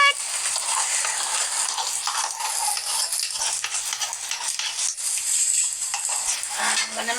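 Fried rice with garlic being stirred in a pan, a steady sizzle and scraping stir running continuously throughout at close range, with no talk over it.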